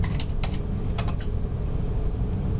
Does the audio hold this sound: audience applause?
no